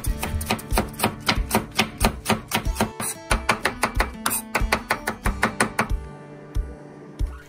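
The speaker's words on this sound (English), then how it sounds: "Finely chop spring onion." Spring onion being finely chopped with a knife on a cutting board by a sushi chef, close and loud, giving a long run of quick, even taps before the chopping slows and stops.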